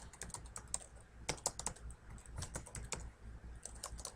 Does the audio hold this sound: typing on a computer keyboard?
yes